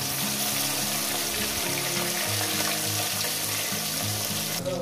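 Bata fish fry in hot salted oil with a loud, constant sizzle. A low rhythmic hum runs underneath, and there is no talk.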